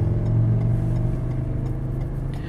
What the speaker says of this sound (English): we're going to go through some rough roads, some potholes, and some sections over here that have lots of rough pavement